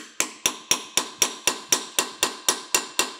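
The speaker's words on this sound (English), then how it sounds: "I'm just going to take a cold chisel" A hammer drives a cold chisel against babbitt bearing metal on a bandsaw, thirteen sharp evenly spaced metallic strikes in a quick steady rhythm, close and loud, with no talking.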